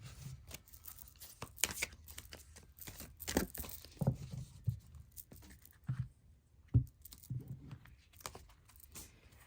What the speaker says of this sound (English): we're going to shuffle the deck up for you